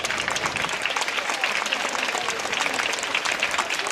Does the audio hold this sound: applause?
yes